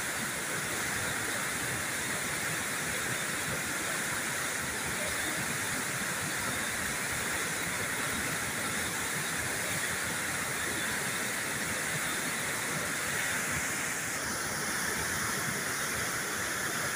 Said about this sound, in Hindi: यहाँ गेट नीचे पुल खुले हुए हैं। पानी बिल्कुल फ्री जा रहा है, कोई पानी को रुकावट नहीं है।